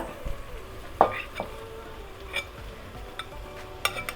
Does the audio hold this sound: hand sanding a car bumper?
no